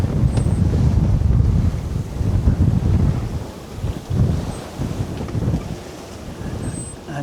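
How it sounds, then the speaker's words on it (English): Strong wind of about 22 to 23 knots roars across the microphone while waves wash around a single-handed sailboat entering a harbour, a loud continuous buffeting that eases slightly toward the end. "got about 22, 23 knots of wind."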